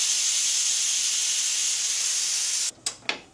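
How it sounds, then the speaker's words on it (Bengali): Pressure cooker on the stove cooking chutney, releasing a loud, continuous steam hiss that suddenly cuts off, followed by two short puffs of steam, close by and without speech. "এখন আমি এটা 15 মিনিটের মতো প্রেসার কুকারে রান্না করব।"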